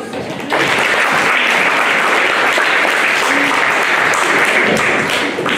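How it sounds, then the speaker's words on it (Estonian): Loud, sustained crowd applause for the caregivers at the Leisi parish children's singing contest in 2016, breaking out after a brief pause and continuing steadily to the end. "Kõikidele kasvatajatele aplaus!"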